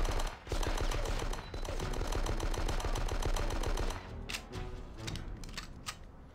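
Rapid cover-fire gunfire in the video game Die Hard: Nakatomi Plaza in a parking garage, a loud continuous rattling stream of shots for about four seconds, then a few scattered single cracks.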